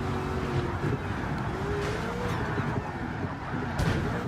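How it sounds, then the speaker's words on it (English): Busy, noisy road traffic, a steady broadband roar of passing vehicles with occasional louder swells, heard close and continuous without talk. "leave the sound of the road in there"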